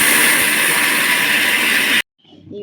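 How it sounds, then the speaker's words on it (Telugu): A mixer grinder grinds soaked jowar and poha with a loud, steady whirring roar that cuts off abruptly near the end, leaving quiet room sound. "ఇప్పుడు మిక్సీ కొట్టండి."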